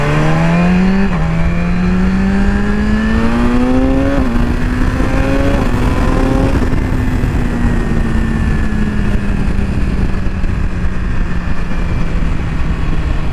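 A BMW S1000RR motorcycle engine drones steadily while riding, its pitch climbing through several gear changes early on and then holding a smooth, loud cruising tone with no voices.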